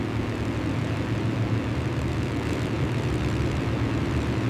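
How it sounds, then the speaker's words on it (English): A continuous low engine drone of Japanese propeller warplanes approaching Oahu and Pearl Harbor fills the scene, steady and rumbling like planes passing overhead, with no voices. "Moments later, Japanese aircraft approached the island of Oahu."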